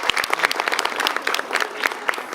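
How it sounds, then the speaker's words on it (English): An audience at Yosemite National Park breaks into a brisk round of applause for a gentleman from Nebraska, dense overlapping clapping with a few sharper claps standing out nearby. "And you folks give this gentleman a round of applause."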